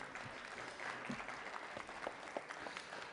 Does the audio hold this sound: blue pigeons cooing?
no